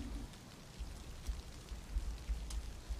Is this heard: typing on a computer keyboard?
no